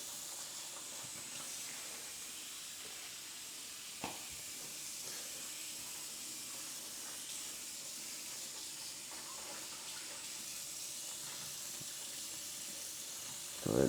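Water runs steadily from a bathroom sink tap while a rag is rinsed, a soft continuous hiss with a faint knock partway through and a brief louder splash at the end.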